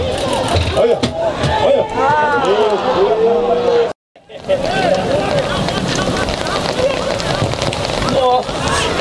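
Rain falling on an outdoor amateur football pitch during a cup knockout match, a steady hiss under loud shouting players and crowd, with a brief dropout midway.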